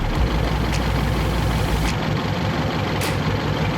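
A 2017 Mercury 90hp Command Thrust outboard engine idles steadily nearby, a continuous low rumble with a faint high whine, holding an even level without throttle changes.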